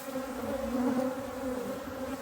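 Honeybees from a freshly opened beehive in a beekeeping yard, heard as a dense, continuous, agitated buzzing drone, close and steady, with no talking.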